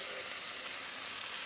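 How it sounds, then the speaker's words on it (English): Slices of bologna frying in a pan give a steady, even sizzle and hiss, close and continuous for a second and a half, with no voices over it. "Ooh, hear that sizzle."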